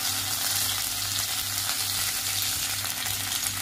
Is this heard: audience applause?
no